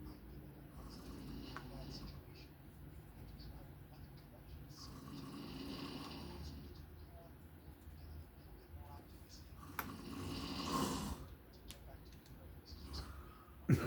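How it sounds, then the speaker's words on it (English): Someone snores in slow, rasping breaths against a noisy background, with occasional clicks and rustles. The snores grow somewhat louder toward the end. "Snoring."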